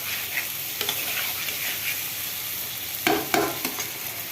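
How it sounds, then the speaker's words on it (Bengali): A pan of stinging catfish (shing fish) curry sizzles softly and steadily while a spoon scrapes and clinks against the pan in a few brief bursts, close up with no talk. "একটু ভালো মতো লাড়াচাড়া দিয়ে একটু ঝুল দিয়ে দেব।"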